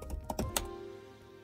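Quick typing on a computer keyboard as a command is entered, a short burst of several close, faint key clicks followed by quiet background hum.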